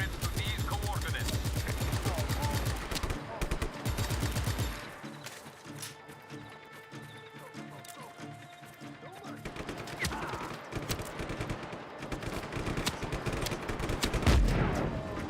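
Rapid gunfire and explosive bursts from the video game Just Cause 3, dense and loud through most of the stretch, with a thinner lull in the middle and a heavy blast near the end.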